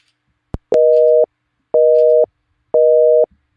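Busy-signal tone repeats three times at an even pace after a WhatsApp call is returned, each steady beep lasting about half a second with short silences between, clear and alone.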